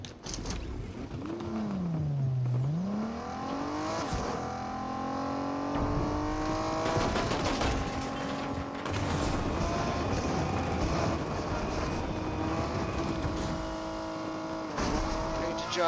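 A car in the Fortnite video game drives along with a steady engine drone that rises in pitch and holds, with a brief swooping tone near the start and faint clicks and tire noise, all without speech.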